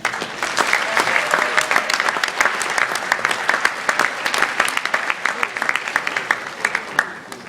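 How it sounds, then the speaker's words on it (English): Sustained, dense applause from a large graduation ceremony audience at a university, honouring families and friends; steady, loud clapping fills the hall throughout without a break. "a round of applause for the families and friends"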